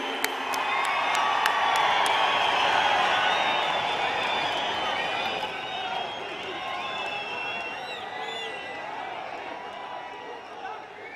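A large crowd at a Panchayati Raj Day event in Jammu and Kashmir applauds and cheers for the Prime Minister, a sustained wash of clapping and shouts that slowly fades, with a voice over a loudspeaker at the end.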